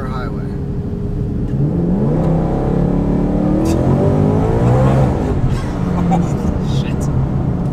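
A supercharged Coyote V8 car with a ProCharger P1X and 10-speed gearbox revs and pulls hard accelerating onto a highway, a rising supercharger whine sweeping up over the steady engine roar, with people talking over it.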